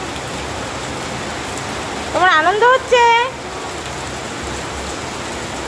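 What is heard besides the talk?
rain falling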